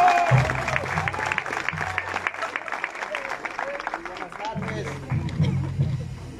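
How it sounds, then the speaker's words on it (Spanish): An audience claps steadily at a swearing-in ceremony for a municipal coordinator, a dense patter of hands throughout while someone speaks loudly over it on a microphone. "¡Fuerte los aplausos!"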